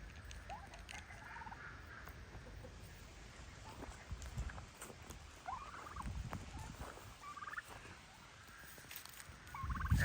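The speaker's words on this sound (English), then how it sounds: "And the turkeys are coming." Turkeys on a farm in autumn make short, soft gobbling and yelping calls scattered at a moderate distance over quiet background rustling and light patter.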